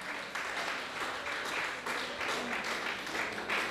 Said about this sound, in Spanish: Denle otro aplauso a Dios